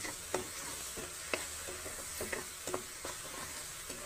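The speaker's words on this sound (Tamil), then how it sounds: "இதை பச்சை வாசனை போகிற வரைக்கும் நல்லா வதக்கிக்கணும்." Onions and spices sautéed and stirred in a pan for a drumstick (murungakkai) gravy: a soft steady sizzle with a few sharp spoon scrapes and taps, close and fairly quiet, no talking.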